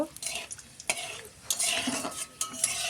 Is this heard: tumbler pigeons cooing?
no